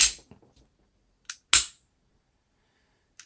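A Diamondback DB9 Gen 4 pistol dry-fires with a crisp, sharp trigger break followed by a short reset click, the pair repeated after a brief pause, close and isolated against silence.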